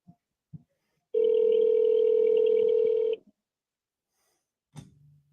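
A phone call rings out while waiting for voicemail to pick up: a single long steady electronic ring tone lasting about two seconds, heard clearly with near silence around it, followed by a brief click.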